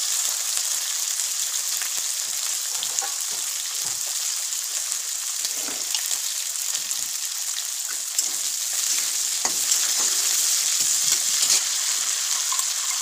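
Whole cloves hitting hot oil in a kadai give a steady, close crackling sizzle with scattered pops and no voices, while cooking a vegetable dish.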